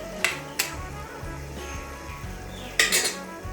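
A metal lid goes onto a home kitchen cooking pot, making a few sharp clinks and clatters: two quick knocks near the start, quieter scraping, then a louder ringing cluster near the end.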